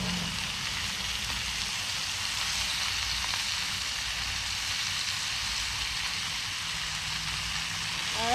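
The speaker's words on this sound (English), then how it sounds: "we're going to go ahead and add all of this spinach" Spinach sizzles and fries steadily in a pan during outdoor cooking, a continuous hissing crackle that holds at an even level throughout with no talking.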